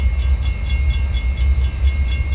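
An RSW (Reading Susquehanna & Western) intermodal train pulling into a siding, loud and close, with a deep low engine rumble and a regular rhythmic clatter of cars rolling past, no voices.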